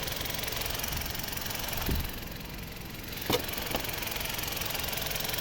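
A 2012 Toyota RAV4 2.0-litre petrol engine idles steadily with a continuous even drone and a couple of brief knocks, heard up close with no talking.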